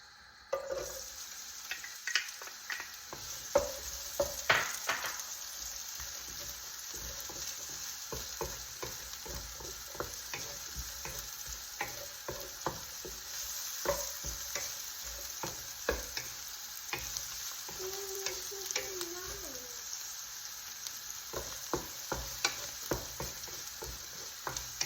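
Onions frying in hot oil in a pan, with steady sizzling crackle and repeated stirring scrapes and taps running through the whole stretch, close and moderately loud, with no talking.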